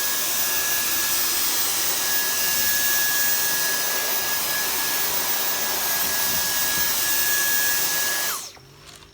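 A Dyson V10 cordless vacuum with the Fluffy cleaner head runs on carpet, a loud steady motor whine with a high tonal hum that holds evenly, then winds down and cuts off near the end.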